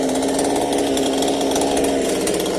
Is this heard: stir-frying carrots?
no